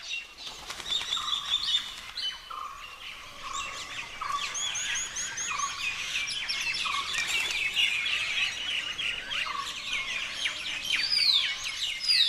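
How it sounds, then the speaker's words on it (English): Jungly birdsong in Assam, India, with miners and blossom-headed parakeets feeding at flowering trees in hot, dry weather: a dense, continuous chorus of chirps, whistles and sharp calls, some near and loud, layered over one another with no voices. "The birds, miners and blossom-headed parakeets, get much-needed nourishment from the flowers."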